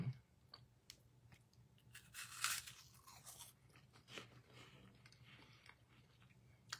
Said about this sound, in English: I was expecting marshmallow, but it's actually crunchy.